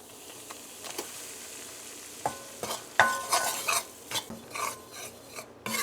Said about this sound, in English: So you're going to let this parch in your ghee, the flour.